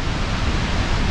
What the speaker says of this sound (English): Right there, the top of a 400 or 500-foot waterfall.